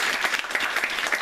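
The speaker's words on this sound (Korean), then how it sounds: "여러분들 큰 축하와 격려의 박수 해주시기를 바랍니다." A church congregation at a New Year's Eve service bursts into a short, dense round of clapping, many hands together and close, with no talking.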